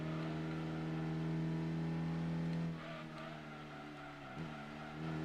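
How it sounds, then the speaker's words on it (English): A BMW 528 with an inline-six engine in Gran Turismo 2 holds a steady, droning hum at speed, then drops off in pitch and volume partway through before building again near the end. "this one, the 528, it's got an inline 6 engine"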